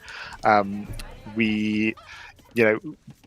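Chickens in the Age of Empires II video game give three loud, drawn-out clucking squawks separated by short pauses, with a few quieter clucks trailing after the last one.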